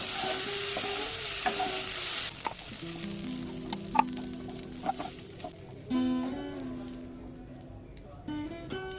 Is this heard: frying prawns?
yes